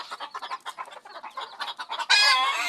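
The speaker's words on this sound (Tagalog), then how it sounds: "Tapang itong inahin ko na Texas nangingitlog kasi yan" A laying Texas hen clucks in a quick, uneven series of soft calls nearby, then breaks into a louder, drawn-out squawk at the end.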